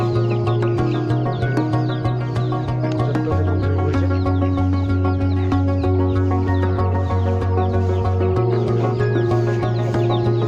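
Chickens and ducks kept in a backyard home coop cluck steadily, loud and close, with a constant layered drone of many birds throughout and no speech.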